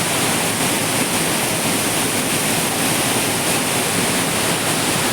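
Mookana Mane waterfall pours as a loud, continuous rushing roar, close and unbroken, with no voices over it.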